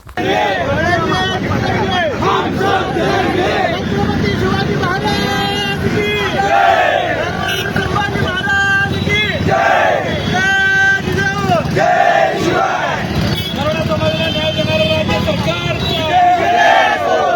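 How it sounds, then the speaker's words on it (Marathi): Maratha community members celebrate in Solapur after winning the reservation fight, a loud outdoor crowd roaring, cheering and chanting in waves, with shouted voices and wind buffeting the microphone. "सोलापूरमध्ये मराठा समाज बांधवांनी केला मोठा जल्लोष"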